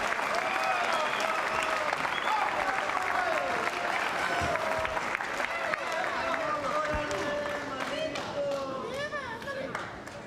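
Spectators at a 2000 World Pool Championship final in a large hall cheer and applaud steadily throughout, a dense, continuous roar of clapping with commentary voices over it.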